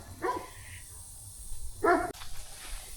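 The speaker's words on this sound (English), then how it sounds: "That's a cocky little dog" A small dog gives two short, sharp barks about a second and a half apart, close by over faint outdoor background noise.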